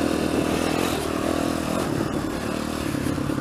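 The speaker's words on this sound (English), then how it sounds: "crack that throttle open, get on the gas, hope the bike knows what it wants to do." A used race motorcycle's engine roars loud and close as the throttle opens, holding a steady, rough, buzzing drone throughout with faint clatter underneath.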